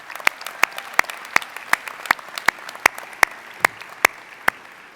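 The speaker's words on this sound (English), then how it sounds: "Please join me in applauding them and thanking them for making this happen." Scattered applause from a college commencement audience, individual claps standing out sharply in a loose, slightly uneven rhythm with little crowd noise behind them.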